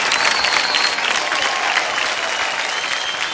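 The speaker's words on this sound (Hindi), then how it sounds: "जोरदार तालियां।" Loud, steady applause from a large audience at a live singing performance, dense clapping sustained evenly throughout with no talk over it.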